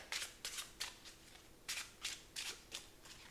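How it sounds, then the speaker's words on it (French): A deck of playing cards is riffle-shuffled during a simple mentalism card trick, giving about eight crisp, close fluttering bursts in an even rhythm with short pauses, quiet overall and with no talk. "il mélange le jeu de cartes"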